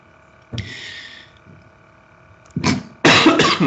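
Several sharp coughs close by: one early burst, a pause, then a quick cluster of harsh coughs near the end.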